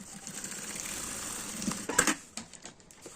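Sewing machine stitching a fabric tab on a multipurpose case, a close, fast whirring patter that runs steadily, then stops with a few short clicks and taps toward the end.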